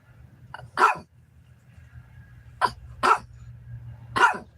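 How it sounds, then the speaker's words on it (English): A dog barks in scattered bursts, one early and then three more spaced apart, over a low steady background hum. "Why are you barking?"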